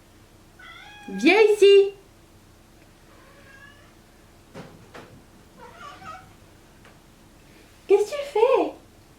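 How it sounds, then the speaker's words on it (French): A cat meows indoors in two loud, drawn-out cries separated by quieter mewing, with someone speaking French between them. "Pourquoi tu miaules?"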